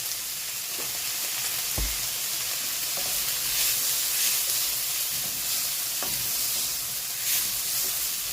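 Egg fried rice seasoned with pepper and salt sizzles steadily in a hot pan, a continuous bright hiss broken by a few sharp scrapes and knocks as it is stirred.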